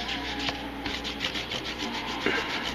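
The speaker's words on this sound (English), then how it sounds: "Just kind of scrub it, make sure every little nook and cranny kind of starts to get it." A dauber scrubs stain into a leather KA-BAR USMC knife sheath, making a close, continuous rasping rub with brief strokes and slight swells in intensity.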